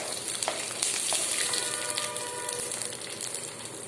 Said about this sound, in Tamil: இதில் நான் கடுகு, சீரகம், வெந்தயம் 3மே போட்டிருக்கேன். இது நல்லா பொரியட்டும்.